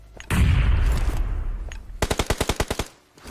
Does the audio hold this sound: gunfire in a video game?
yes